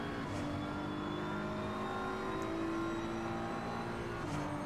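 A BMW race car engine in Assetto Corsa during Superpole qualifying at Paul Ricard, a steady, sustained engine drone holding a high, slowly rising pitch throughout, with no one talking.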